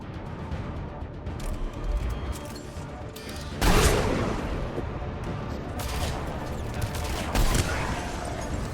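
Gunfire at a shooting range in the video game Mass Effect 3, repeated loud bursts and booming shots over game ambience, with a voice talking between them.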